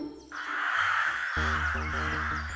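A crow caws loudly and close, one long harsh drawn-out call lasting over two seconds, standing alone without talk.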